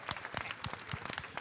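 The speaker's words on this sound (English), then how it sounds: "so could you please give them a round of applause?" Audience applause for the caterers at a college harvest festival evening event, a short burst of scattered, irregular clapping from a modest crowd, fairly quiet and without talk.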